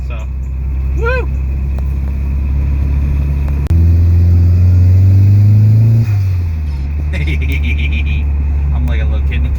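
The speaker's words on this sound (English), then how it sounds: "This tiny little Garrett turbo spools super fast." A Volvo 240 with a small Garrett turbo revs while driving, heard from inside the cabin as a loud low engine rumble that climbs in pitch and then drops back, with talk over the engine.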